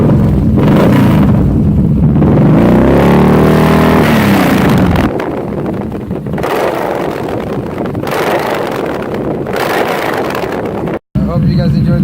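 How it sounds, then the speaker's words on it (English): A 2017 Yamaha SCR950 Scrambler with a Two Brothers competition stainless steel exhaust revs loudly and close, the engine note climbing and falling through several throttle blips amid wind buffeting, with a brief cut near the end. "For those of you that want to know what the Two Brothers competition stainless steel exhaust sounds like"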